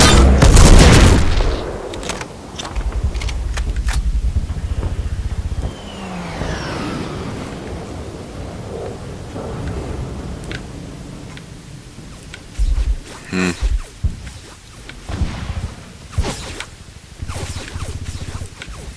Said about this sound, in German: wie geil das klingt, wenn die Patronen neben dir vorbei huitzen